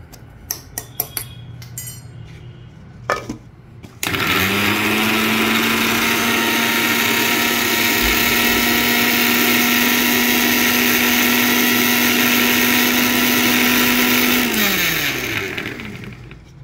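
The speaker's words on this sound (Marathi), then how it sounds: "अजून तिला मिक्सरला बारीक करू आपण।" Electric mixer grinder running steadily for about ten seconds, powdering dry sukka masala finer, with a loud sustained whine that spins up abruptly and winds down at the end, preceded by a few clinks and handling clatters.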